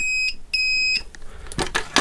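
A multimeter set to its buzzer continuity range, tested while repairing a mobile phone stuck showing a headphone symbol, gives two clear high electronic beeps close up, followed by scraping and handling noise.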